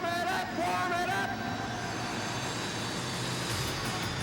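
Jet-powered monster truck warming up its jet engines at a 1992 monster truck show: a loud, steady, unbroken roar with whining tones on top, holding near and full for the whole stretch.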